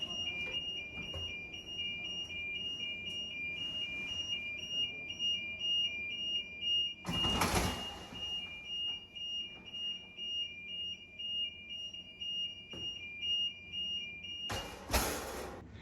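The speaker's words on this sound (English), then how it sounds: "verify the audible alarm sounds when the door is moving" A steady, high-pitched electronic alarm tone from a closing watertight door sounds continuously, broken twice by short loud bursts of rushing noise.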